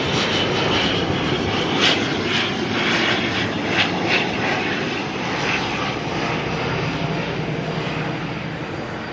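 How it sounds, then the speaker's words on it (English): An ATR turboprop aircraft arrives at Auckland Airport, its engines giving a steady, loud droning roar that stays close and fairly even throughout, with no talk over it. "We've got an ATR coming in next from Palmerston North."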